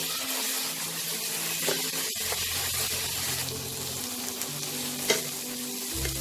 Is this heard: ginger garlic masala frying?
yes